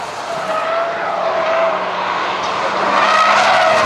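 An Audi SUV prototype runs onto a curb, its engine note and tyre noise sweeping past loudly and growing stronger toward the end.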